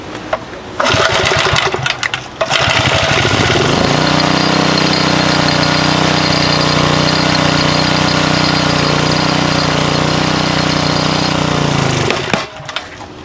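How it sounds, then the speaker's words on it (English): A gas-engine log splitter pulls into a hard, loaded drone as it forces through knotty firewood, the engine bogging and labouring under strain for several seconds before cutting out, with clunks and cracks of wood at the start and end. "It stalled the splitter here."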